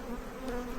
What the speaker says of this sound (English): you can see the bee coverage here is very strong